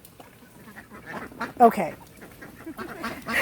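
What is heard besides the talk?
ducks quacking on a farm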